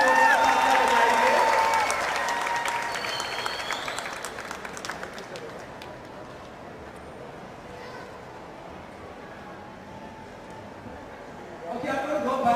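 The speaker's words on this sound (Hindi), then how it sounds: "तो प्लीज जोरदार तालियां बजाइए।" An audience at the opening ceremony of a dance week applauds a chief guest, the legendary choreographer Saroj Khan. Clapping is strongest at the start, then thins and fades to a quieter murmur before a brief swell near the end.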